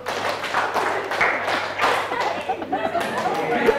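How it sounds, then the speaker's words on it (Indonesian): A classroom of pupils claps a counted rhythm together, with sharp claps in uneven bursts that build in number. Chatter and talking run underneath the claps. "kita tepuk 1, tepuk 2, tepuk 3, tepuk 4, tepuk 3, 2, 1"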